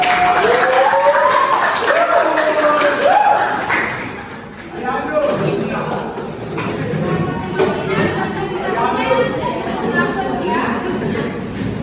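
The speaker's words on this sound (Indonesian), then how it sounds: "Kita kasih aplaus dulu kepada guru." A classroom of students applauds their teacher, a broad patter of clapping that builds after a few seconds of talk and murmuring and then carries on steadily, mixed with chatter.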